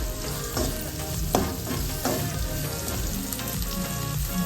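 Chopped onions sizzle steadily in hot oil in a pan for a fenugreek leaf curry, a dense continuous crackle with occasional louder pops and spatula scrapes, close and alone without talk.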